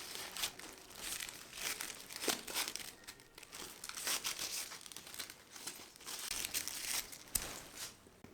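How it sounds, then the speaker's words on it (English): Crepe paper crinkles and rustles steadily as a long strip is wound around the wire stems at the base of a giant paper peony flower, close and fairly soft, with no voices. "Wrap the wires at the bottom with a long strip of crepe paper."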